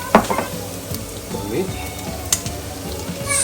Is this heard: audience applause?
no